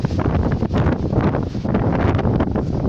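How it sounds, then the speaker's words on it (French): Strong storm wind gusts across an outdoor plot with a small cabin and a tarp weighed down with stones, a loud, steady broadband roar that swells and dips without pause for the whole stretch. "Quand le vent il veut te dégager des trucs,"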